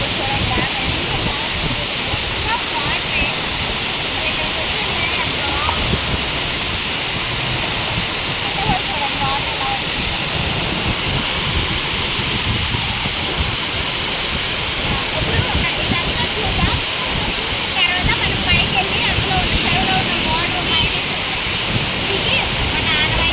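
Water pours steadily over the Dindi mini waterfall near a dam, a loud, continuous rushing roar with some wind buffeting on the microphone.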